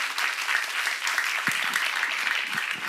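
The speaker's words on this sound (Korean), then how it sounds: "박수 주세요" A church congregation breaks into sustained, even applause, fairly loud and close, with a few sharper individual claps in the mix.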